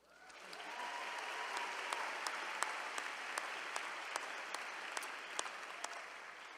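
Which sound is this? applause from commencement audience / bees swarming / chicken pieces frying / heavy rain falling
applause from commencement audience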